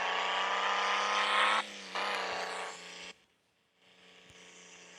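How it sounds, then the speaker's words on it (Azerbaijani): Engine drone of a car driving in a hunting video game, a loud steady hum with a pitch shift and brief drop before settling into a quieter continuing whir, no speech. "Maşın da öyle gedir."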